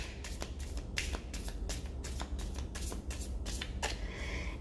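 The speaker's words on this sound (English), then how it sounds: "I am shuffling all through the time that I'm talking" A deck of playing cards is riffled and shuffled repeatedly up close, giving quick rippling bursts of crisp card flutter, fairly quiet and without talk.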